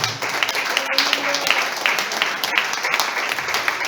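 A church congregation claps in a continuous, fairly loud round of applause, with a voice faintly present beneath the dense patter of hands.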